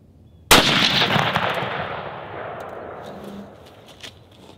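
A single rifle shot fired outdoors while sighting in a deer rifle, a sharp loud crack followed by a long rolling echo that fades over several seconds.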